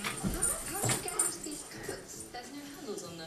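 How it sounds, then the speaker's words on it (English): Dogs bark and whimper in the distance outside over a noisy room, with people talking nearby. "Our neighbor's dogs must be out there, or Robert's walking to his car."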